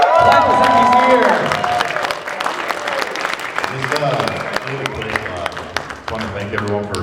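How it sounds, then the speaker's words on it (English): Audience applause and cheering at MAGFest, a live gaming convention panel, rising loud right away and continuing as dense crowd clapping with some voices, easing slightly partway through but sustained for several seconds. "Clap as if he's here."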